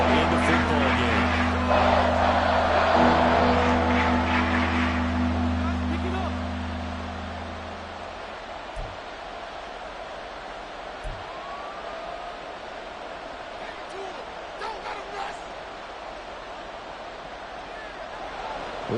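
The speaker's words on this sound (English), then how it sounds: "This crowd turning up the decibel level." Stadium crowd noise rises in a Madden NFL football video game during a Lions vs Bears matchup, a broad roaring swell that peaks early and then settles into a steady background hum beneath commentary.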